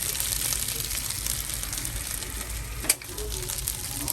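Red chili nasi goreng fries in a pan with a constant close hiss of sizzling, interrupted by one sharp clack of a utensil near the end, no speech.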